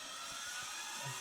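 A South Bend 13 lathe's compound power feed motor runs as a faint, steady whir with a thin hiss, continuous and low in level for the whole moment.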